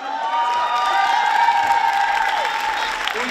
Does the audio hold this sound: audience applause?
yes